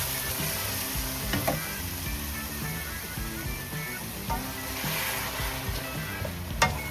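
Noodles sizzle hard in a hot pan with seafood-style fire flavour, a steady close crackling fry with a couple of sharp pops and metallic utensil clanks scattered through.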